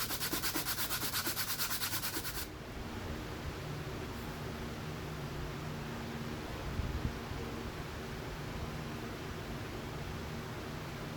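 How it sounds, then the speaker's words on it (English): Hand sanding of a knife handle gives a steady close scratchy rasp, rhythmic rubbing strokes at first, then a continuous smoother hiss, with no talk. "I'll hand sand the knife and glue everything up"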